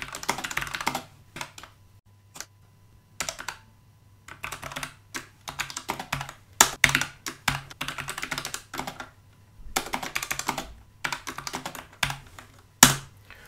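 Computer keyboard typing while writing Java code in Greenfoot, coming in irregular bursts of quick keystrokes separated by short pauses, close and moderately loud with no talking.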